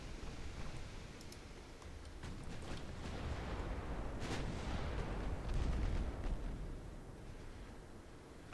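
Warship main guns firing in the naval game Ultimate Admiral: Dreadnoughts, a steady rumbling roar of distant heavy gunfire with repeated booms that swell and fade, no voices.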